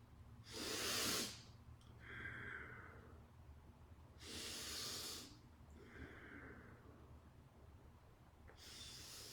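A yoga therapy student breathes deeply and slowly, with three long, close, hissing breaths through the nose and mouth separated by quieter exhales, in a calm setting with no talk.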